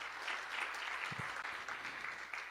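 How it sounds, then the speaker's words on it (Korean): An audience applauds award recipients at a Nazarene University graduation ceremony in Korea, a steady dense patter of many hands clapping throughout, moderately distant with hall reverberation, and a brief low thump partway through. "네, 박수로 축하해 주시기 바랍니다."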